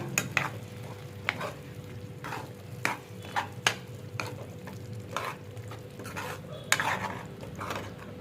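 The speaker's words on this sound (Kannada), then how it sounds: "ಈಗ ಸ್ವಲ್ಪ ಚೆನ್ನಾಗಿ ಫ್ರೈ ಮಾಡ್ಕೊಳ್ಳೋಣ" A spoon stirs and scrapes a metal pan as spices fry for a capsicum tomato gravy, making repeated sharp clinks and scrapes over a low steady sizzle, close and clear with no talking.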